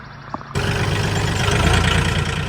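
A farm vehicle's engine starts up and settles into a steady, loud low rumble after a short quiet moment at a rural homestead.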